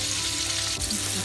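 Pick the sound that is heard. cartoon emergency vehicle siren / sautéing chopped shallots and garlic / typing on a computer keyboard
sautéing chopped shallots and garlic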